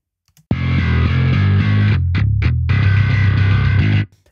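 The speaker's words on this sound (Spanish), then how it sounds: "voy a poner nada más el bajo y lo voy a poner con la distorsión, así como con todos sus procesos" A programmed MIDI bass line with heavy distortion and full processing plays loud and sustained, a thick growling tone with brief palm-muted stops and gaps near the end.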